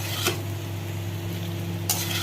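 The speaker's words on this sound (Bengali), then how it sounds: "এবার আমি সব কিছুর সাথে মিক্স করে নেব।" Rice noodles being stirred and mixed with other ingredients in a pan, a steady soft frying hiss with scraping stirs near the start and end, close and moderately loud, no voices.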